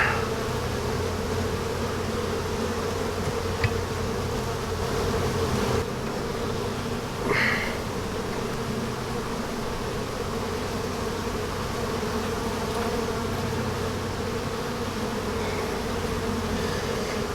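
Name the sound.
honey bees buzzing during hive inspection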